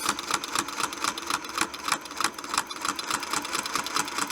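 A sewing machine quilts with a spin-guide ruler setup as fabric draws in, giving a steady rapid stitching chatter with rhythmic needle pulses throughout, fairly close and alone.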